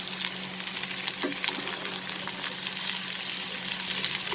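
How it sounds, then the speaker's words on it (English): Chopped onion sizzling in a hot pan for a bitter gourd and potato dish, giving a steady, dense crackle with occasional stirring. "So now we are going to add the chopped onion"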